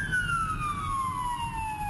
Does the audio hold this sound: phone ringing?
no